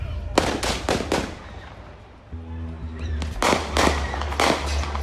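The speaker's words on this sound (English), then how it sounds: "Moments later, shots ring out." A series of sharp gunshots in a parking lot at night, several quick cracks in a burst, then a pause under a low engine hum, then another rapid volley of loud reports, with faint voices between.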